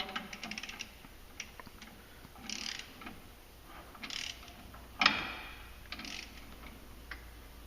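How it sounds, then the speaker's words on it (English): A torque wrench tightens the clutch bolt on a 2016 Polaris General 1000 during a clutch kit install, faint rapid ratchet clicks in short bursts with one sharper metallic snap midway, no voices. "So you're going to torque it to 96 foot-pounds."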